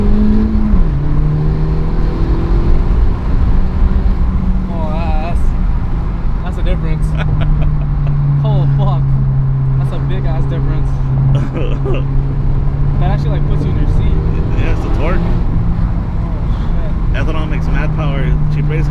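A 2019 Honda Civic Si running E30 fuel launches hard and accelerates, its engine tone rising steadily and droning loudly under people talking inside the car throughout.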